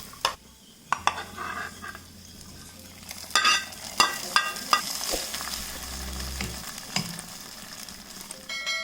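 Raisins sizzle and fry in hot ghee for wheat payasam, with steady crackling and sharp clinks of a spoon stirring against the pan.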